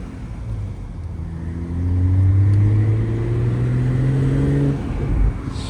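A nearby car engine rumbles low, its exhaust burbling and gurgling as the pitch rises and falls, with no talking.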